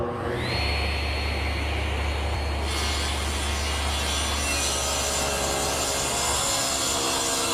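Table saw ripping a taper cut in wood, the workpiece guided along the rip fence; the motor spins up, then a loud, sustained cutting roar with a high whine runs to the end.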